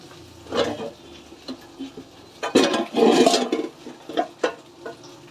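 Cauliflower curry in oil is stirred in a pan with a spoon, giving irregular nearby scrapes and clunks against the metal, with a louder cluster of stirring in the middle.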